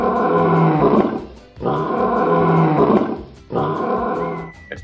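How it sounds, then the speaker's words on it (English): A big tiger roars three times in long, loud, rumbling bursts separated by short pauses, close and with no other sounds. "We have a tiger."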